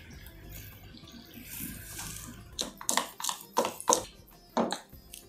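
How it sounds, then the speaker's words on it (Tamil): Water pours into a pan of butter cauliflower masala on the stove, starting as a soft hiss and then breaking into a series of loud splashy bursts with short pauses between them. "ஒரு 1/4 கப் தண்ணி விடுறேன் ஃபஸ்ட்டு."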